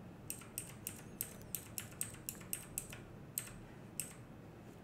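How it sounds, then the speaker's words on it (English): A single key on a computer keyboard, the delete key, is tapped repeatedly while the machine restarts to enter the BIOS of an Asus motherboard, giving about fourteen light, sharp clicks at a steady quick pace, close to the microphone. "I'm gonna keep pressing the delete key from my keyboard."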